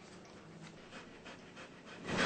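A dog pants in short, breathy bursts near the microphone, the rhythmic huffing growing louder and closer at the end, with no voices present.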